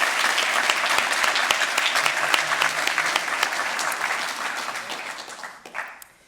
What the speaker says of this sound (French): on peut tous les applaudir parce que c'est un beau travail